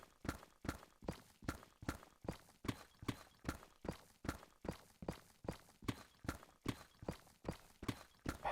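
Horse hooves clip-clop steadily in a brisk, even rhythm in the Minecraft video game. The hoofbeats are quiet, regular and continuous, with no talk over them.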